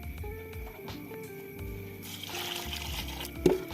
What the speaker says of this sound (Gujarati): હવે આપણે આ બધા વેજીટેબલ વારાફરતી ધોઈ નાખશું.